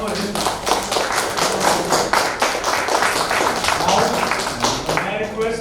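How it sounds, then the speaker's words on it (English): Audience applause fills a conference hall after a speaker at an environment, social and governance event, a steady dense patter of clapping lasting throughout with some crowd noise mixed in. "ladies and gentlemen, big round of applause for him"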